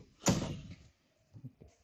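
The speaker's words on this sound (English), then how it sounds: "let me, let me close the door" A door closes with one firm thud near the start, followed by a few soft knocks and rattles as it settles.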